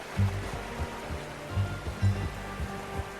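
A river flows in Red Dead Redemption 2 with a steady watery wash, broken by rhythmic low thuds and splashes as riders cross it.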